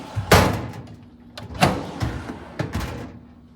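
A drawer on a Craftsman tool chest slides open and shut, giving several sharp metallic clunks and rolling scrapes at close range, spaced over a few seconds, with no talk.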